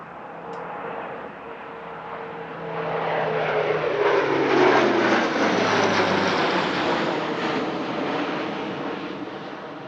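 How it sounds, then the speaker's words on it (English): An Airbus A400M military transport of the French Air and Space Force, flying a tactical display, sweeps past with a swelling turboprop roar and droning propeller tones that fall in pitch as it passes, then fade slightly. "from Transport Squadron 161 of the French Air and Space Force, the A400M tactical display"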